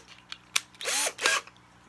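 A Phillips bit is fitted into a drill chuck: a few sharp clicks and taps, then two brief bursts of the chuck spinning with a whirring ratchet, close and fairly quiet.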